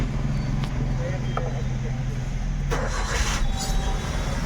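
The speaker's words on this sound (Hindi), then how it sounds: "तो एक बार मैं गाड़ी स्टार्ट कर लेता हूँ।" A Maruti Suzuki WagonR with an engine misfire and check engine light cranks and starts, then settles into a steady low idle, fairly close and continuous, with a few faint clicks and knocks over it.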